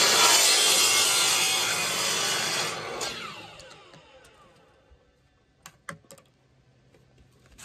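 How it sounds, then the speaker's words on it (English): Hand sawing through a pipe at an angle for a homemade biodigester, a dense steady rasping of strokes for about three seconds, then fading to sparse scrapes and a few sharp clicks and taps, close by with no talk. "So we are going to cut it basically on an angle like that."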